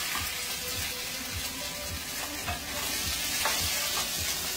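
Food sizzles steadily in a hot pan while a utensil stirs it, giving a continuous frying hiss with soft rhythmic scraping and clinking from the stirring.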